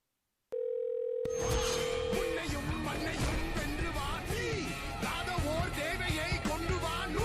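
A steady electronic telephone tone sounds for about two seconds, then gives way to a noisy crowd with overlapping voices and shouting.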